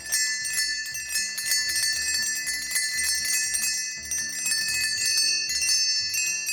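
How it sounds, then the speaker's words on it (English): Antique Conestoga wagon bells from 18th-century freighting, shown at a carriage museum, ring in a steady, bright, overlapping jingle that lasts throughout, loud and close, with no voices. "So these are Conestoga wagon bells."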